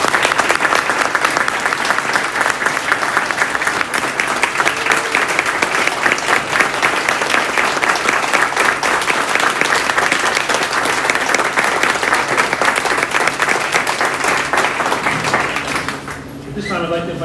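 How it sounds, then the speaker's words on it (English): A big round of applause fills a school board of education meeting, a dense, steady clatter of many hands that carries on for about sixteen seconds before cutting off abruptly. "I'd ask you all to join me for a big round of applause."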